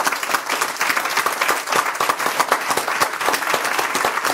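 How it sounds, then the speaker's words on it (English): An audience at an evening learning-network event gives a steady, dense round of applause, many hands clapping together at a constant level for several seconds with no talking over it. "Please join me in giving them a wonderful round of applause for this evening."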